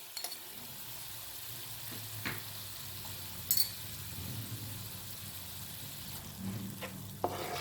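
Masala of onions and spices frying with grated tomato, a soft low sizzle close by, stirred now and then with scrapes and a few light clinks of a utensil against the pan.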